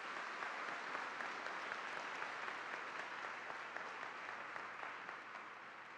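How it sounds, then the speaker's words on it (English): Audience applause at a talk, a quiet, distant-sounding wash of many hands clapping steadily without a break. "Big round of applause."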